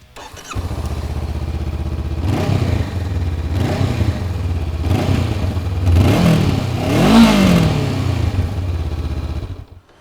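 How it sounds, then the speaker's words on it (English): A 2021 Honda CB500X motorcycle engine idles with a deep, throbby exhaust note, then revs up in several sharp blips, each rising and falling back, close and loud. "Let me crank up the engine for you to listen to its exhaust note."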